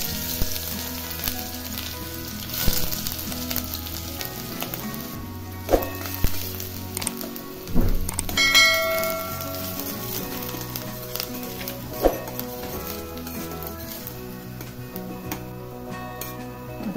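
Mustard seeds, cumin and onion sizzle and crackle steadily in hot oil for Kolhapuri-style sprouted matki usal, with occasional sharp pops and clinks of a utensil against the pan, no talking.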